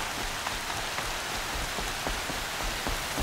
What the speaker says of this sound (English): So we had like snow, and now we have tons of rain.